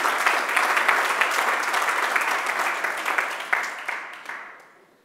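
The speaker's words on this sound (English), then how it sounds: "And applause." An audience applauds the winner of an Arduino Challenge audio and visual arts category at an Arduino Day event, a dense steady wash of clapping that holds for several seconds and then tapers off toward the end.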